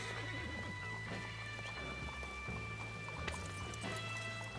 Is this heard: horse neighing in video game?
yes